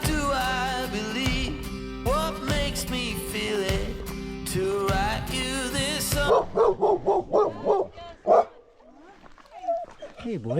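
A dog on the Howe Sound Crest Trail barks in a quick series of sharp, close yaps, following a stretch of busy voices and noise.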